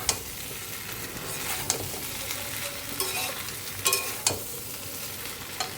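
Meat and pointed gourd sizzle loudly in a kadai while being stirred, with a continuous hiss broken by several sharp scraping strokes of the spatula against the metal.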